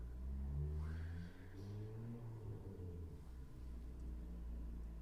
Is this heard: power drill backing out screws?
no